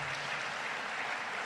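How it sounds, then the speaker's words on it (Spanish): A church congregation applauds after a sermon, giving a faint, even patter of clapping that stays steady for the short stretch with no distinct individual claps. "Un aplauso, por favor, para el Señor por su palabra"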